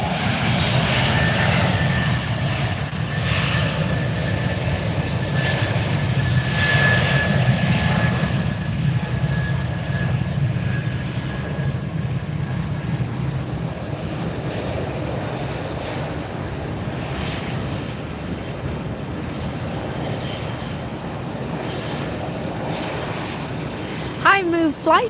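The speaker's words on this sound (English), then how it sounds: "JetBlue A320 on its way out." A JetBlue Airbus A320 takes off from Fort Lauderdale, a sustained jet roar that is strongest early and slowly fades as the aircraft departs, with a voice talking over it.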